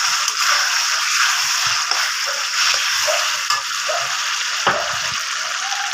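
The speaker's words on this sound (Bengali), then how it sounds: "আমি যে ভেজে রাখা যে আলুগুলো সেই আলুগুলো দিয়ে আমি কষিয়ে নেবো" Spice masala sautéed with fried potatoes in a pan for a Bengali curd-based aar fish curry: a loud, continuous sizzle and frying hiss, with intermittent scraping and stirring strokes and no voices.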